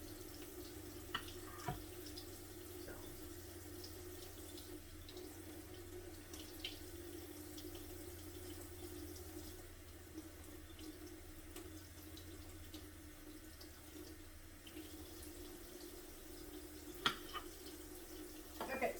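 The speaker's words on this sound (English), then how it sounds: "I ran them over cold water and they're all revived and beautiful." Cold water runs from a tap over fresh strawberries at a kitchen sink, a faint, continuous trickle with a few small knocks and splashes.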